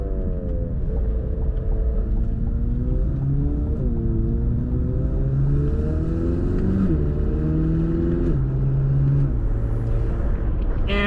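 A Chevrolet Corvette C8 Z06 with 670 horsepower and a dual-clutch automatic pulls hard, its engine note climbing through repeated quick upshifts, loud and close throughout.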